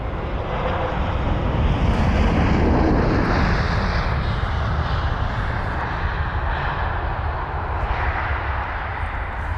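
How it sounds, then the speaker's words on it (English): A British Airways A320 airliner arriving to land at Heathrow gives a loud, steady jet roar that swells as it passes close overhead, then eases into a broad rushing drone, with no talk. "So that's our first arrival of the day, wasting no time. This BA320,"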